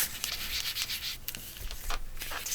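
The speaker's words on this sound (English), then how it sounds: "just get your pink and rub it in there" Pink ink rubbed onto avocado-dyed paper card, a steady dry scuffing and scratching that comes in close, uneven strokes and stands alone without any voices.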